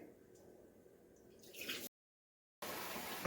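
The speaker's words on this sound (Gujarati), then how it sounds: "તે મસળીને ધોઈશું અને એમાં પાણી આ રીતે નીતારતા જઈશું" Water drains off washed sago pearls in a close, soft trickle and dribble. It builds briefly, cuts to silence, then resumes.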